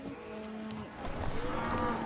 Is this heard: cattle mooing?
yes